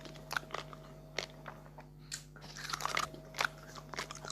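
A man bites and chews food smothered in toothpaste at lunch, producing close, crisp crunches and soft wet chewing in irregular bites against a quiet room hum.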